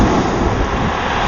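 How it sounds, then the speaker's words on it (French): Strong ocean waves break on a beach in a continuous loud roar of surf, close by and mixed with wind noise, no voices. "regarde, moi j'ai des vagues beaucoup trop fortes."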